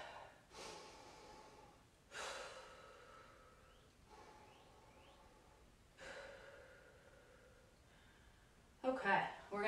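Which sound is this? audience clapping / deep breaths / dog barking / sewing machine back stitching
deep breaths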